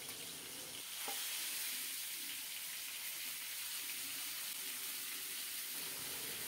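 Teasel gourd pieces dropped into hot oil tempered with whole cumin and a torn bay leaf, giving a loud, bright sizzle that jumps up at the moment they hit the pan and keeps crackling steadily.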